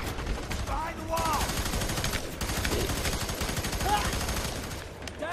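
Dense rapid gunfire from the video game FEAR 3, loud and continuous bursts filling the whole stretch, with voices talking over the shooting.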